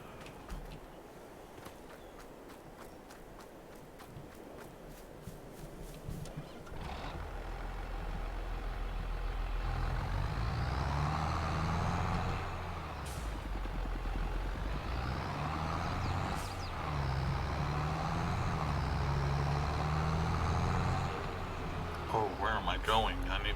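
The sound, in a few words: John Deere tractor engine in Farming Simulator 22 video game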